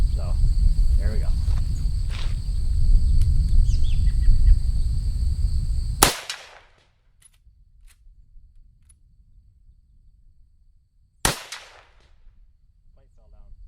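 Two sharp shots from a lever-action .30-30 Winchester rifle crack out about five seconds apart outdoors, each followed by a short echoing tail, the first cutting off a steady wash of insect chirping and background noise.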